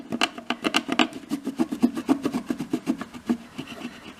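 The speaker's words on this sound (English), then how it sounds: "I've just got a little bit of normal furniture polish here on my duster, and you'll find that that just really buffs up the brassware really nicely" Duster with furniture polish rubbed briskly over dollhouse brassware, a close, rhythmic series of short raspy rubbing strokes at an even pace.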